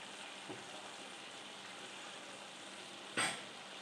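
Kochur loti with prawns cooking in a pan as the water boils off into oil: a quiet, steady sizzle and fry with one brief stir or clatter near the end.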